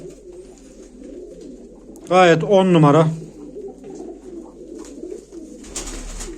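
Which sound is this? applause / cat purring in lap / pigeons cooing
pigeons cooing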